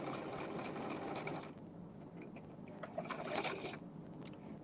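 An older manual sewing machine stitches darts in a shirtdress, quiet rhythmic mechanical clatter that runs steadily, then eases into lighter, sparser ticks and brief ratchet-like bursts toward the end.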